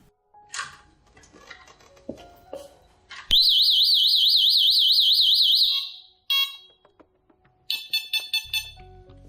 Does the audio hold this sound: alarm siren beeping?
yes